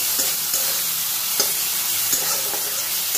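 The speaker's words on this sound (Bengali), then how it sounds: "এবার এর মধ্যে আমি আদা রসুন বাটাটা অ্যাড করে দেব। আদা রসুন বাটাটাও পেঁয়াজের সঙ্গে খুব ভালো করে আমি" Ginger-garlic paste fries with onions in a hot pan, making a loud steady sizzle. A spoon scrapes and stirs at intervals, giving a few sharp taps.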